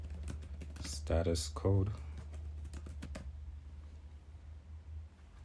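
Computer keyboard keys tapping while Python code is typed, a quick run of clicks heard under and after a man's nearby speech.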